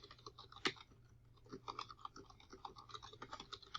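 Soft, quick keystrokes on a computer keyboard patter unevenly and close by, with one sharper tap early on and a faint hum underneath.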